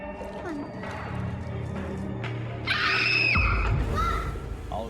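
A girl screams loudly in a dramatized scene, the cry rising sharply partway through over a dense, busy background of music and other sounds.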